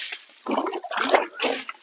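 Water sprays and splashes while a John Deere farm tractor is being washed outdoors, in close bursts of gushing that rise and fall, with no talking.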